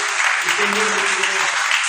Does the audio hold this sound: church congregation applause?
yes